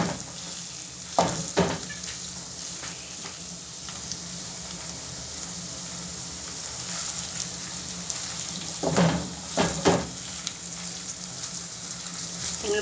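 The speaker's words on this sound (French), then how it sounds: "je vais ajouter un peu de viande hachée. Je vais mélanger tout." Minced meat sizzles in a pan with pasta, a steady frying hiss broken by a few scraping bursts of stirring, with no talk.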